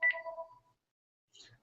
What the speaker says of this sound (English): my phone is ringing here